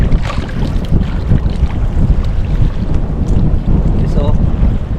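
Strong wind buffets a fishing boat out on rough, choppy water, with loud, continuous gusty roaring and the wash of waves, and no clear talk over it.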